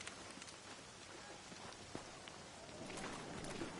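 Storm rain pours steadily in the Red Dead Redemption video game, a faint, even wash of falling water with scattered drop patters, building slightly toward the end with no voices.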